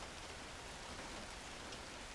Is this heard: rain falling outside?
yes